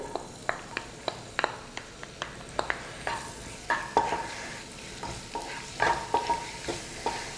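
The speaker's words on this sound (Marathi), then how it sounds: "तेल थोडं गरम झालं की लगेच अद्रक लसणाचे तुकडे घालायचे आहेत" Ginger and garlic pieces fry in hot oil with a steady sizzle. A utensil scrapes and knocks the pan in a quick, regular rhythm, loud and close.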